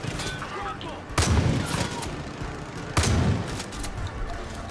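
Two loud shotgun blasts boom in the Far Cry 5 video game, spaced about two seconds apart over continuous in-game background noise, with a voice talking in between.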